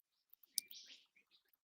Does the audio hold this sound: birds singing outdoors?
yes